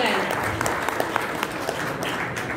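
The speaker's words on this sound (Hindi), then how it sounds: "इनके लिए बहुत बहुत तालियों के साथ मैं चाहूंगी कि इनका जोरदार स्वागत किया जाए" An audience at a women's club event gives welcoming applause, a dense patter of hands clapping at moderate volume. Scattered sharper claps stand out, and a voice can be heard faintly beneath the clapping.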